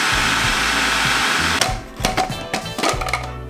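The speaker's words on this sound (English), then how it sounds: "And the rest can go in our food processor." A food processor churns red bean paste with a loud, steady motor whir that cuts off partway, leaving clunks and rattles as it winds down.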